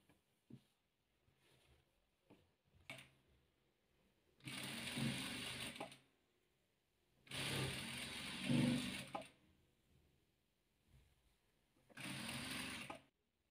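A sewing machine joins rows of star patchwork in three loud bursts of steady whirring stitching, each a second or two long, separated by quiet pauses with faint handling noises.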